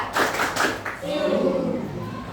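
A classroom of students claps hands in a counting game, with several sharp, separate group claps in quick succession at close range. A voice speaks right after the claps.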